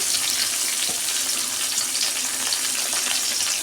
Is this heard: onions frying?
yes